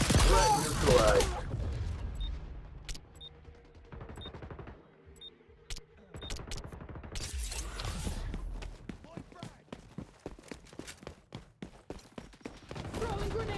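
Rapid M4A1 rifle fire in the shooter game XDefiant, with sharp bursts and a quick run of close shots toward the end, mixed with game effects and voice lines spoken over the action.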